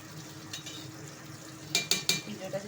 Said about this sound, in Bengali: ঘিটা হচ্ছে পুরোটাই মিলিয়ে দেবো সুন্দর করে। পোলাও মিলিয়ে নিই।